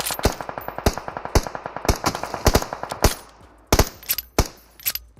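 Rapid automatic gunfire sprays in the PUBG Mobile video game, loud close bursts of sharp shots in quick rhythmic strings, broken by brief pauses and a few final separate shots.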